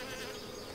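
Honeybees at a small queen mating nuc give a steady, dense buzzing that holds evenly throughout, close and moderately loud with no voices.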